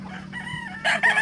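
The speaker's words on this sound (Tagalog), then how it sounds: "Ito namang isang cockerel dito." A cockerel on a gamefowl farm crows once, close and loud, in a short, rising then sustained call with no talking over it.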